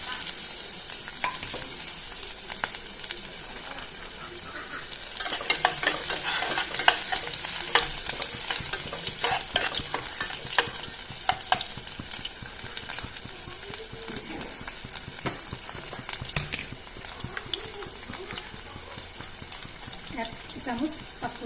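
Hot oil sizzles in a wok as fish is fried and stirred for a fish curry with bottle gourd. The frying is continuous, with scraping stirs and louder bursts of crackle partway through.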